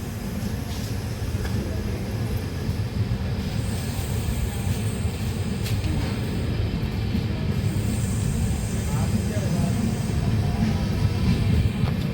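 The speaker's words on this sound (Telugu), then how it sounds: "మన ట్రైన్ అయితే బయలుదేరుతుంది కొండపల్లి రైల్వే స్టేషన్ నుండి" A passenger train pulls out of Kondapalli railway station, a steady low rumble of wheels and carriage noise filling the scene at an even, close level, with faint voices now and then.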